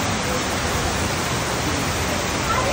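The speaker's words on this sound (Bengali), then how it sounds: "কি সুন্দর বৃষ্টি হচ্ছে," Heavy rain pours down steadily during Cyclone Remal around an apartment building, a dense, loud, unbroken wash of noise with no voices.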